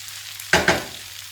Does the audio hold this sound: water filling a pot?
no